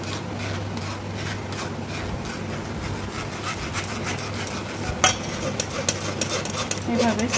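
Bael fruit pulp pressed and strained through a sieve, making steady close rubbing and scraping strokes with a low background hum throughout.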